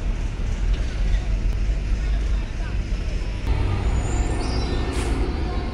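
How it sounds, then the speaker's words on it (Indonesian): Several buses roll into Bakauheni port in Indonesia, with a steady low engine rumble, a hiss like an air brake near the end, and faint voices in the background. "Itu ada sekitar 3 bus baru datang."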